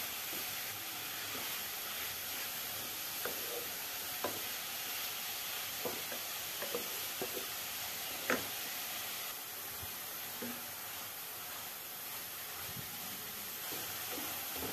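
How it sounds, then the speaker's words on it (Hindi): Pumpkin for halwa fries on a high flame in a pan, a faint, steady sizzle and hiss with sporadic soft clicks and scrapes from stirring, continuous and without speech. "हाई फ्लेम पे ही भूनना है और तब तक भूनना है जब तक इसका थोड़ा सा कलर चेंज ना हो जाए।"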